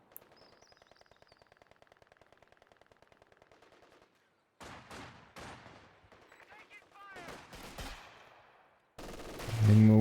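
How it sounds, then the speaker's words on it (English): Rapid bursts of MG42 machine-gun fire ring out in a World War II real-time strategy match, a long steady stream of shots followed by sharper volleys and gunfire, with a commentator talking over the action. "LengMo with the MG42."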